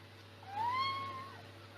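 One clear, drawn-out cat meow rising then falling, close and moderately loud over a low steady hum.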